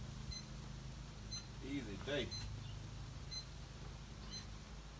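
A meat thermometer gives faint, evenly spaced beeps about once a second while baby back ribs cook on a hot grill, sitting under a voice and a steady background hum.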